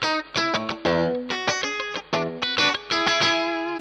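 An electric guitar plays through a clean Marshall Silver Jubilee amp, with bright strummed chords and choppy rhythmic stabs. The playing is loud and close, with quick muted gaps between hits.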